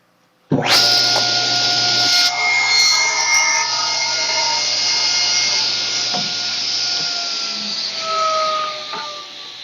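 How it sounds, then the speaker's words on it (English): A table saw shaves a little off the back edge of a wooden board, starting abruptly with a loud motor whine and a sustained cutting roar that holds steady for about nine seconds, close and alone. "I have the table saw set already. Well, all I got to do is turn it on and run it through"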